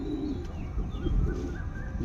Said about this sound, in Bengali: দেশি ওল্ড জেনারেশনের পায়রা এটা।